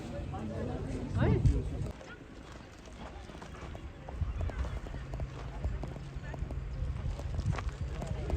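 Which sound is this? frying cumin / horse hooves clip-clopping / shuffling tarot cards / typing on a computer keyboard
horse hooves clip-clopping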